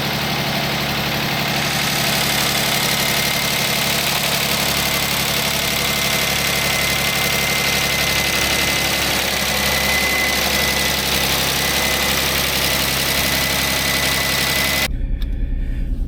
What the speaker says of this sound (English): Tracker seems to be running fine